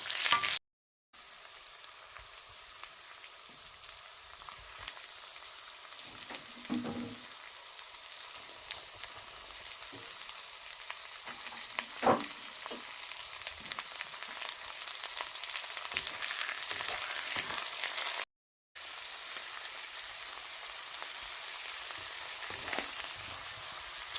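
Sweet corn, peas and carrots fry in a pan for chicken rice (riz gras au poulet), giving a steady close sizzle with scattered pops and stirring scrapes, broken by two brief gaps of silence.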